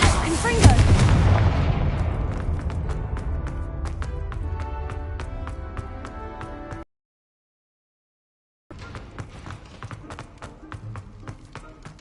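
Repeated Confringo blasting spells in the Hogwarts Legacy video game: a loud burst of booming, crackling blasts with sharp impacts, a sudden cut to silence, then more rapid crackling hits and game effects.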